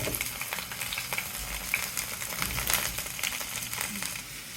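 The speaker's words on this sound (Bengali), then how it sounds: "বন্ধুরা, পটলগুলো দিয়ে দিচ্ছি আমি।" Pieces of pointed gourd (potol) fry in hot oil in a pan, giving a dense, crackling sizzle that runs continuously at close range.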